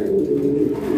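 A pair of strawberry owl fancy pigeons coos close up, a steady, throaty low purr filling the short moment without any voices.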